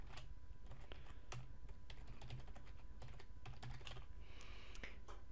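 Code is being typed on a computer keyboard, producing a run of soft, fairly quiet key clicks in irregular bursts over a low, constant background hum.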